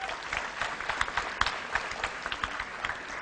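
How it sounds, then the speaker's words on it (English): Audience applause welcomes two student speakers at a seminar: a few seconds of steady, moderately loud clapping with some distinct sharp claps standing out. "Let's welcome both the student speakers with a big round of applause."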